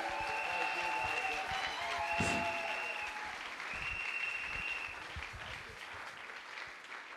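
A church congregation in Kinshasa applauds in sustained, fairly distant clapping that rolls on evenly, with faint tones and scattered crowd sounds beneath.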